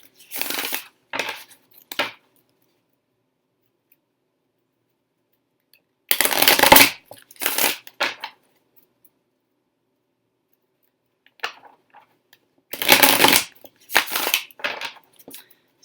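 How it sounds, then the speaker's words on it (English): Tarot cards being shuffled in three separate bursts of crisp riffling and flicking, close and fairly loud, with silent pauses between the bursts and no talking. "we're just going to start by shuffling a couple of times,"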